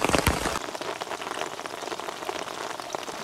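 Steady rain patters on the surfaces close by in a dense, even hiss during a hike in Cinque Terre, Italy, with no voices.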